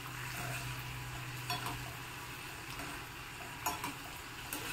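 Garlic cloves deep fry in oil over a medium-high flame, giving a soft, steady sizzle with occasional light clinks of a utensil, faint and continuous, with no one talking.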